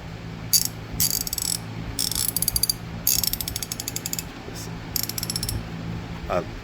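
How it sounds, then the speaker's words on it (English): A heavy SK 1/2 inch ratchet clicks in several quick bursts of close, crisp pawl ratcheting, separated by short pauses, with no talking. "my typical 1/2 inch go-to ratchet is this SK"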